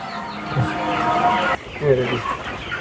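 Chickens cluck and murmur in a poultry shed on a fermented-feed farm, a steady close flock chatter with scattered louder calls and no clear speech.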